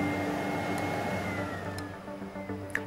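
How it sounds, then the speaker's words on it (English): A water-filter vacuum cleaner runs its automatic fine dust filter cleaning cycle, a steady mechanical whir with a whining tone that slowly drops in pitch, then a few faint clicks. "the fine dust filter will be cleaned automatically. You'll hear this happening."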